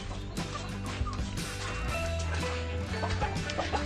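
Many chickens on a farm cluck and chatter all at once in a dense, close chorus. Several birds overlap, and no voices can be heard.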